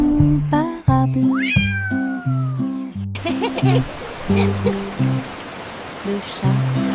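A cat meows several times in short, close, clear calls, set over a bouncy looped music backing with melodic notes.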